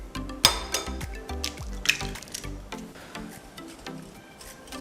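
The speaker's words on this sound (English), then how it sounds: "we're going to whisk in 2 eggs" Two eggs whisked into mashed ripe banana in a bowl for banana pancakes, giving close, wet squelching and irregular clicking strokes with soft drips, with no voices.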